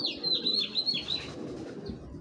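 An imported racing pigeon calls with a few soft, close chirps and coos over a low background murmur, with faint wing shuffling.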